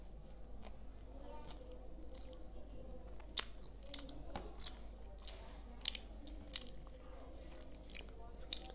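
Someone eating pav bhaji street food close to the mic, soft wet chewing and squishy bites with a few sharper crunchy clicks, quiet throughout.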